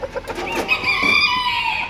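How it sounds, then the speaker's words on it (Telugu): A large rooster, about five kilograms, crows loudly and close at a Kuwait animal market, a drawn-out call rising and holding for nearly two seconds after a few short clucks, with no voices. "ఇది కూడా చాలా పెద్ద కోడి. ఇది పుంజు."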